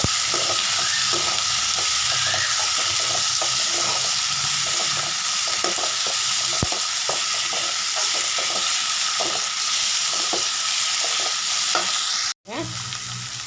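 Cumin seeds sizzle in hot oil in a pan while a banana flower kootu is being cooked, producing a loud, steady frying hiss with scattered crackles and stirring clinks that stops abruptly near the end.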